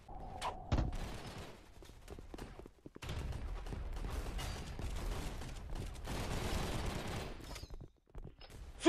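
Gunfire in the online shooter Gun Raiders comes as sustained rapid bursts with a few sharp single shots and short gaps between, fairly loud in the game mix, with no one talking.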